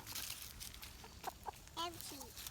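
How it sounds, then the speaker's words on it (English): A backyard chicken clucks a few short, soft notes near the end over a quiet outdoor background, faint and close, with children's voices nearby. "This is our chicken."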